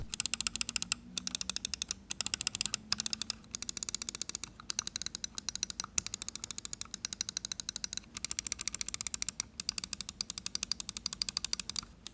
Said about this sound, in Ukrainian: Повертаючись до кнопок, клік мені подобається.